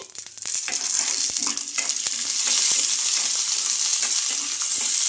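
Green chillies, ginger pieces and garlic cloves frying in oil, producing a bright, continuous close-up sizzle broken by sharp scrapes and taps of a spoon stirring the pan.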